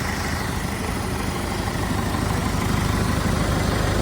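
A Sonalika 750 tractor engine, fitted with a 3-speed gearbox, idles with a steady, loud low rumble and constant vibration, no talk.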